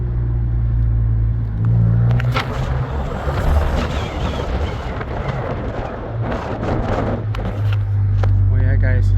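A 2015 VW GTI Mk7, stage 2 with a CTS turbo inlet pipe, intake and downpipe, rumbles loudly and steadily with revving surges and whooshing intake noise, heard up close for several seconds.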